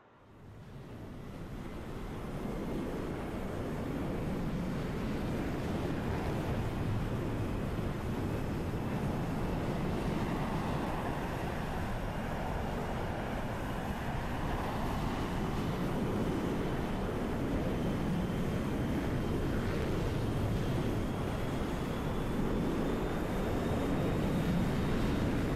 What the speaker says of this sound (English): Successful start on engine number 2, switching to engine number 1